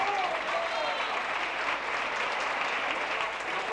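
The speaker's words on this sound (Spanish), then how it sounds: "Es aplauso para el alcalde" At a 1984 fandango flamenco performance in Jaén, an audience applauds the mayor with dense, steady clapping that holds at an even level throughout, a voice faintly audible underneath.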